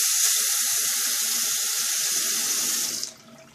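Water gushes steadily from a tap to wet a sponge for a homemade squishy, a loud close continuous hiss that stops abruptly near the end, with no talk.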